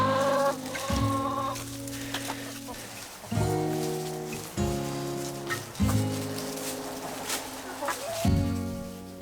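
Chickens clucking and squawking inside a cattle panel greenhouse, steady overlapping calls close by, with a faint patter like rain in the background.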